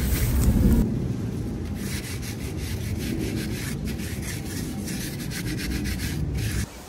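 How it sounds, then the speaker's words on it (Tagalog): Scrubbing brush working mud off a Easyride 150 FI motorcycle tire, a continuous close rasping scrub with rhythmic strokes over low rumbling background noise, no talking. "simulan na natin mag-brush para matanggal na yung mga putik-putik"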